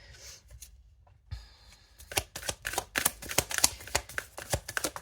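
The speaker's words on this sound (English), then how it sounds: "I'm just going to shuffle their cards while I think about this." Tarot cards being shuffled up close, a few soft riffles and then a busy run of rapid flicking and slapping, no voices.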